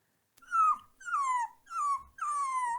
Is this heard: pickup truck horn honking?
no